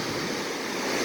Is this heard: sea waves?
yes